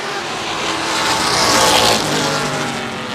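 Race cars roaring down the front straightaway at full throttle, then lifting off, a dense, loud engine wash that swells and eases, heard from trackside.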